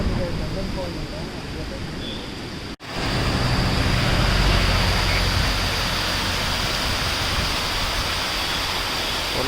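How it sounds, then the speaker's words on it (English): A waterfall along the Shirdi Ghat road in the Western Ghats pours as a dense, steady roar of rushing water, close and loud, continuous apart from a brief cut early on. "One of the waterfall we found on the way in Shirdi Ghat."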